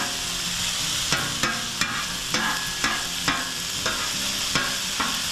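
Venison with onion and pepper sizzles on a griddle while a spatula strikes and scrapes the metal in a regular rhythm, about once every half second, loud and close with no talking.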